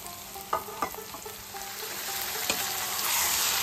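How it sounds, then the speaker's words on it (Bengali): Steady sizzle of chicken frying in hot oil over high heat builds louder over a few seconds, with a handful of sharp clinks and scrapes of a utensil early on. "প্রথম 5-6 মিনিট একদম কড়া আঁচে মাংসটাকে ভাজা ভাজা করে নিতে হবে"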